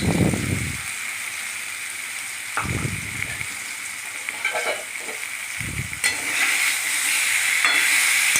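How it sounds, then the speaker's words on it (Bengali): Sweet, sour and spicy mango pickle is stirred in a hot pan, bursts of scraping and sizzling stir strokes recurring every few seconds over a steady background hiss. "দিয়ে আবার ভালো করে নাড়াচাড়া করলাম"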